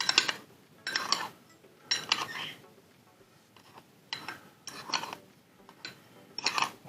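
Sugar and starch being stirred together in a bowl for a sponge cake cream, heard as repeated scraping, clinking strokes of a utensil against the bowl in an uneven rhythm of bursts about a second apart, close and moderately quiet.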